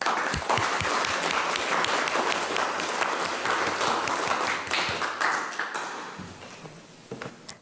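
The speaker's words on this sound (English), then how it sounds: "can we all give Geraldine a round of applause?" Audience and council members at a mock city council meeting applaud a presenter: sustained, crisp clapping with distinct individual claps, thinning and fading toward the end.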